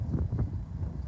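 Strong wind buffets the microphone outdoors on a cold day, a steady low rumble with gusting swells throughout and no talk.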